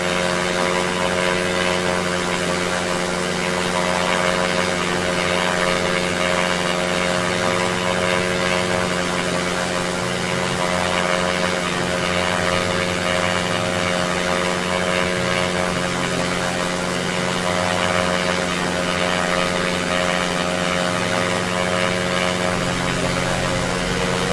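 A propeller aircraft engine in the flight game SimplePlanes, a steady, loud droning hum with a layered buzz, constant and uninterrupted throughout, with no talking.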